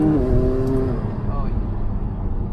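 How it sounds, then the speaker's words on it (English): A 2019 McLaren 570S Spider's 3.8-liter twin-turbo engine heard from inside with the window down, a loud steady induction roar with turbo whine, rising tones early on, over a voice talking. "you can hear the turbos a lot more with that window down right there"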